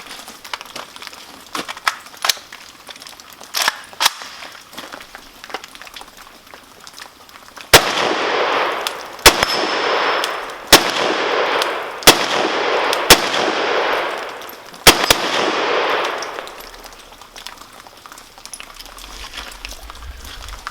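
A VEPR FM AK-47 rifle fitted with an ALG ultimate trigger fires a string of about seven loud, sharp shots at uneven intervals, each followed by a ringing outdoor echo. Fainter clinks and handling noise come before the shots.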